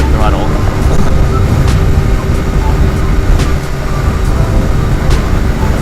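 Lifan KP Mini 150cc motorcycle at wide open throttle on a freeway, heard as a loud constant engine drone under heavy wind rumble, steady for the whole stretch.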